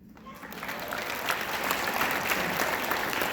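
Crowd at a Panthers team event breaking into applause and cheering, starting quiet then swelling quickly into loud, sustained clapping with shouts mixed in.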